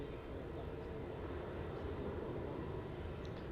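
A Jetstar jet takes off on a ferry flight to Darwin from Melbourne Airport, a faint, distant, steady engine roar holding throughout.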